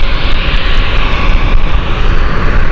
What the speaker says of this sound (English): You can really smell the jet engine as well as it's passing by.